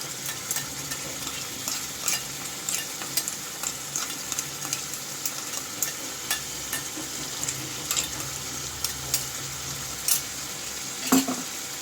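Chicken fries in a pan with a paste of ground cumin and coriander as a utensil stirs it, giving a steady sizzle with repeated scraping and stirring clicks and no talking.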